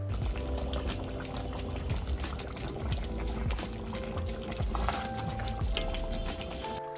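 Yogurt chicken simmers in a covered pot with a dense, steady bubbling and popping that is busy and continuous throughout, with no voices.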